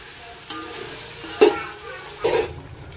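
Onion masala fries in oil for soya biryani, giving a soft background sizzle broken by a few louder scraping stirs of a spoon in the pan.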